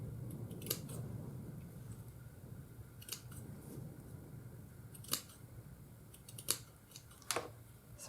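Small scissors trim fine fibres from a handmade Christmas gift tag, giving a few crisp, close snips spaced irregularly over a soft background hiss.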